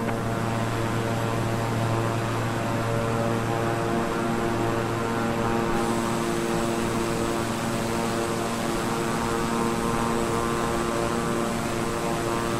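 A Beechcraft 350i King Air twin-turboprop in Microsoft Flight Simulator drones steadily in cruise, a loud, even propeller and engine hum with layered tones and no other sounds.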